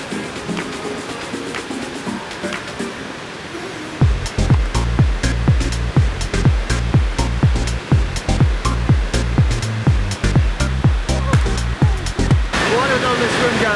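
Kravica waterfall in Bosnia and Herzegovina roars steadily and loudly up close, with a run of heavy rhythmic thumps and splashes over the middle stretch before the plain rushing returns.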